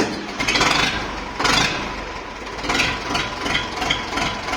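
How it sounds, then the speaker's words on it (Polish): An Ursus C360 tractor's diesel engine cranks and catches, revving in a few surges before settling into a rough, loud idle close by. "A więc uruchommy ciągnik."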